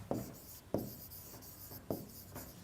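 Pen scratching across paper as a sentence is written into an exercise book during an English lesson, with repeated short strokes in an irregular rhythm, close and soft, with no voice over it.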